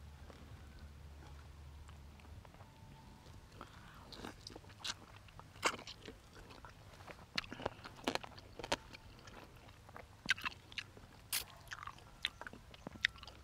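Roasted chicken cooked in an improvised biscuit-tin oven outdoors is chewed up close, with repeated crisp bites and crunches that start sparse and grow busier, irregular and sharp over quiet background.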